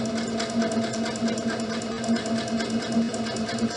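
A sewing machine stitches fabric for a scrunchie with a steady, fast, close mechanical whir and needle patter, running continuously with no talk.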